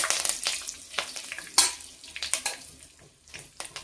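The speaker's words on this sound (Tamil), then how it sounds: "இப்போ கொஞ்சமாக கருவேப்பிலை சேர்த்துக்கலாம்" Curry leaves spit and crackle as they hit hot oil in a pan with fennel seeds, close sharp pops and sizzling bursts over a low frying hiss.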